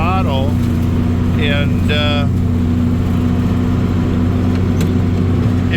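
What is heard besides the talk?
tractor engine running at three-quarter throttle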